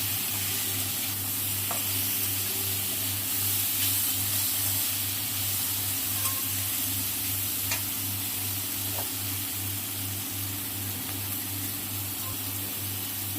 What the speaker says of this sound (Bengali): একটু নেড়ে চেড়ে নিই।